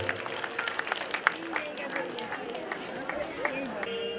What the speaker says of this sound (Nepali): ताली बजाएर स्वागत